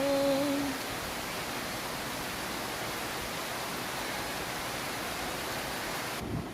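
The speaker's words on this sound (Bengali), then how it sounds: "কি বৃষ্টি, সুন্দর বৃষ্টি হচ্ছে" Steady heavy rain pours down as a dense, even hiss, close and continuous throughout, with a faint brief tone near the start.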